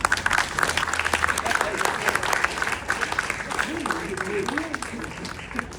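Sustained applause and clapping from a crowd at a political rally for a new Popular Front in Gennevilliers, dense and steady throughout, with a speaker's voice and cheers rising over the clapping.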